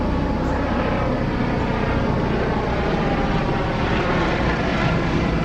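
A helicopter passes overhead, its engine and rotor making a loud, continuous, even roar that fills the whole stretch with no break and no talking.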